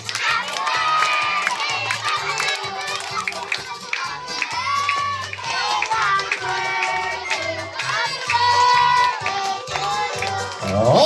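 Birthday party crowd of kids shouting and cheering loudly over about eleven seconds, with a steady thumping music beat underneath and overlapping young voices throughout.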